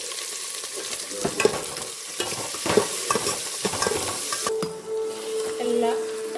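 Ginger, chilli and spices frying in hot oil for the tempering of a Mangalore-style fish curry, a steady close sizzle with stirring scrapes and a few utensil knocks; a sustained tone joins near the end.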